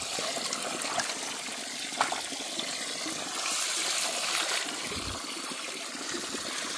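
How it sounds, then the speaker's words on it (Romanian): Water from a tap at a spring setup runs steadily into a plastic container outdoors, a continuous trickling gush with no talk over it. "Un robinet, îi dăm drumul pe jos."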